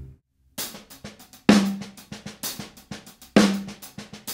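Hi-hat and snare drum play a double paradiddle, alternating quick light strokes with a few sharp, louder accented hits in a steady repeating pattern, close and dry.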